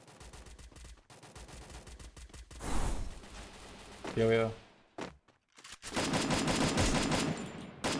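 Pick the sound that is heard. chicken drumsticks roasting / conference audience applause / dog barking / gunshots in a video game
gunshots in a video game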